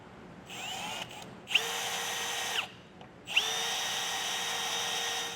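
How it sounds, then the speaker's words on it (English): A power drill whines loudly in two long bursts with a short pause between, its high-pitched motor revving up at the start of each run as it drills a 1/2 inch hole in a 2023 Jeep Gladiator's metal frame. "I will now drill this rear hole out to a 1/2 inch"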